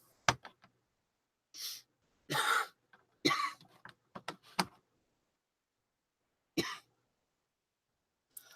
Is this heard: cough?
yes